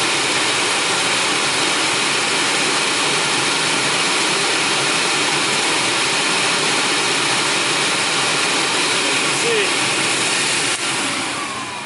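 Filter Queen 33 vacuum cleaner running continuously, a loud, steady broadband motor roar and airflow whoosh held close for the whole stretch without pause.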